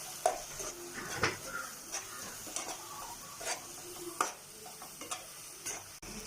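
Yogurt being stirred into a chicken marinade for fried chicken biryani, heard as soft wet scraping and clinks of a spoon against a bowl in short irregular strokes, close and fairly quiet, with no talking.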